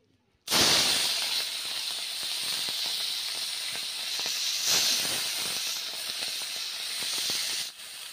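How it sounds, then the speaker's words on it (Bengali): Freshwater snails dropped into hot oil in a wok burst into a loud, steady, hissing sizzle that begins abruptly and holds strong to the end, with faint crackles running through it. "কড়াইয়ের মধ্যে তেলও দিয়েছি, তেলটা গরম হয়ে গেছে। ওর মধ্যে দিয়ে দিচ্ছি বেছে রাখা গুগলিগুলো"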